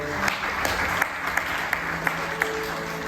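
A church congregation claps together in a steady rhythmic beat, with sharp regular clap peaks over a dense wash of applause from the crowd.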